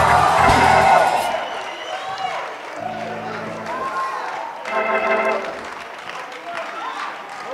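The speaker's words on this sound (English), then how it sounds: "And clap your hands. Somebody shout glory." Church congregation clapping and shouting in praise, a dense wash of applause and whoops that swells loudly at the start and again midway, with voices calling out throughout.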